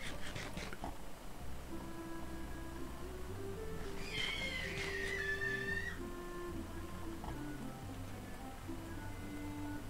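A wild cat in the video game Minecraft gives a drawn-out, wavering meow in the middle, clear and fairly close over a steady background of game music.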